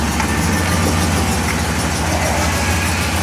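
A 1967 Pontiac GTO convertible idles through its stock exhaust in a steady, low, close rumble. The engine runs evenly with no revving and no voices over it.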